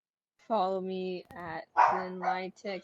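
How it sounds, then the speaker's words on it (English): A dog barks and yips in a tonal, drawn-out way several times, mixed in with a person speaking nearby. "Don't mind the dog in the background."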